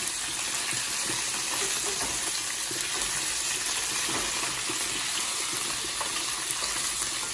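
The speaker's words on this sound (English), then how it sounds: "the oil is hot and it will pop because this meat still has liquid like water on it" Beef for a Zambian dish browning in hot oil, making a steady, close sizzling hiss with scattered small pops throughout and no voices.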